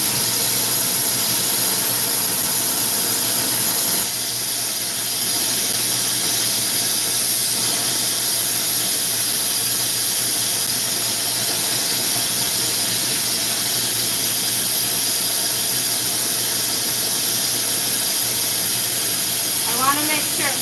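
Glassblowing torch flame melting glass frit along the shaft of a frit spoon, a steady loud roaring hiss that runs unbroken throughout with a faint squeal near the end.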